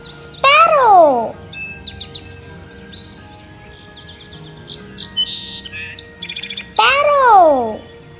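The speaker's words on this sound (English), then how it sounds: "Sparrow." A sparrow gives bright, close chirps and tweets, scattered irregularly between two longer sweeping calls, with no talking over it.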